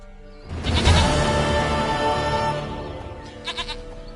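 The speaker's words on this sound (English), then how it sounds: "Goat of mine, dearest, sweetest goat." A goat in The Witcher 3 lets out one long, loud, wavering bleat close up, followed moments later by a shorter, fainter bleat.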